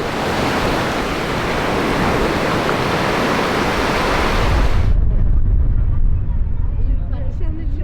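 Ocean waves break on a beach in a continuous loud rushing wash of surf, with the hiss dropping away partway through into a deep, rumbling wind-buffeted roar.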